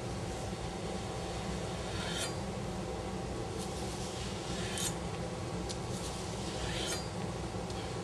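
A chef's knife is drawn lightly through an onion on a cutting board while dicing, in long angled pulls, giving a few soft, crisp slicing strokes at intervals over a steady close background, with no talking.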